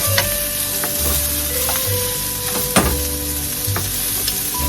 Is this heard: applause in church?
no